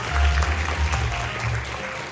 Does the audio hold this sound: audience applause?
yes